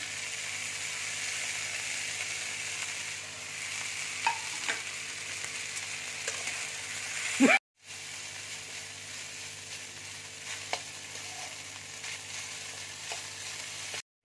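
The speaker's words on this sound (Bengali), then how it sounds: "এবার আমি চাউটা দিয়ে দিচ্ছি" Veg chow mein noodles hit a hot pan with a steady sizzling fry, stirred throughout, with one sharp clatter partway as the noodles go in; no talking.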